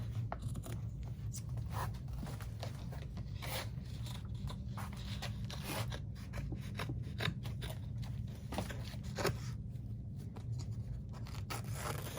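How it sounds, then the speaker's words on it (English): Repeated snipping and crunching of Fiskars scissors cutting through cushion fabric, close and fairly quiet, with irregular strokes and rustling between cuts. "Good pair of scissors. You just push right through."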